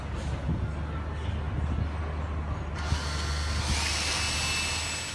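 Power drill boring holes in wood while making nunchakus, a low rumble building into a steady loud high-pitched whir in the second half.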